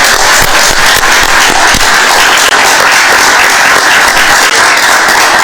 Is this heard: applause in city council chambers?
yes